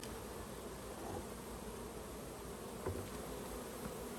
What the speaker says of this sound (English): There's a good amount of bees up here.